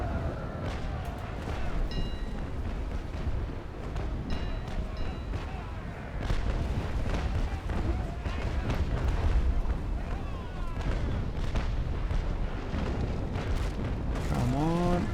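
Naval Action Legends sea battle with ship cannons firing, dense overlapping booms and rumbling broadside blasts under continuous game noise and someone talking throughout.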